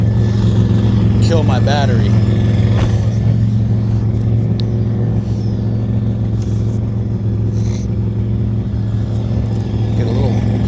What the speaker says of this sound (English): everyone's warming up their cars